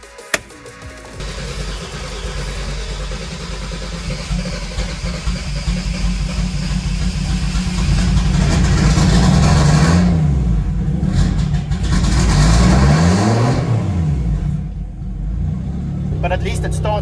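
A Mercedes W203 with a turbocharged M104 engine cranks and catches, settles into a rough idle, then revs in two rising and falling sweeps, loud and close. Someone talks over it.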